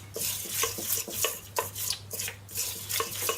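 A spoon stirring water into icing sugar, with close, repeated scraping strokes against the bowl at a brisk even pace, a low hum running underneath and no talk.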